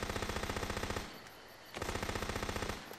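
Rapid automatic gunfire rattles in Minecraft Guncraft on Xbox, two bursts of quick evenly spaced shots split by a brief lull, fairly quiet and with no talking.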